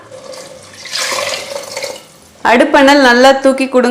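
Measured water pours into a pan of tomato rice (thakkali sadam) made with jeeraga samba rice, a steady wash of splashing lasting about two seconds before a person starts talking over the stove.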